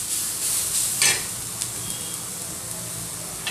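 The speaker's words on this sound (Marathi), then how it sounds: "आपला कांदा परतवून झालाय, खूप जाळायचा नाही, फक्त कच्चेपणा पण थोडंसं परतवायचं आहे।" Onion sautéing in a pan for Maharashtrian egg curry (anda kadhi): a steady soft sizzle with a few brief scraping stirs, close and alone without talk.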